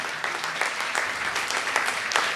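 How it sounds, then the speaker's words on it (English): Thunderous audience applause fills a hall at the 11th Japan Festival at AMA in 2023, a dense, steady roar of many hands clapping at once, with no voices standing out. "Friends, a thunderous applause to the two of them."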